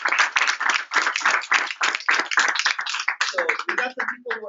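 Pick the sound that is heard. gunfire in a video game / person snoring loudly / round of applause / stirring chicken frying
round of applause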